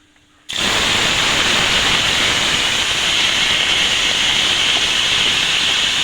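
Mustard seeds and curry leaves hit hot cooking oil, setting off a loud, dense sizzle that begins abruptly and keeps up steadily and close by, with no voices.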